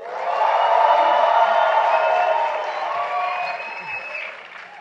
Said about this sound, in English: If you've had a good time, let me hear your applause.